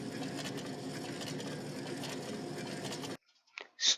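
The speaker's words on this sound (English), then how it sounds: "In the factory, this machine is very noisy." A noisy factory machine clatters and rattles steadily for about three seconds, then stops abruptly, leaving only a couple of faint clicks.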